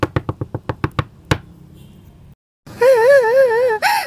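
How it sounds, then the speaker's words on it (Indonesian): Knocking on a door, a quick series of about seven sharp raps followed by one louder knock, then a pause before a loud wailing voice takes over. "Tidak berselang lama kemudian terdengar suara ketukan pintu"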